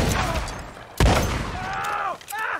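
Gunfire during a shootout in the video game Red Dead Redemption 2: a sharp, loud shot cracks out amid a busy, noisy battle, with shouting voices between the blasts.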